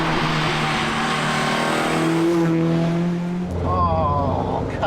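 A Talbot Sunbeam Lotus engine pulls loudly from close by, its revs climbing, then briefly dropping at a smooth gear change before it picks up again under load.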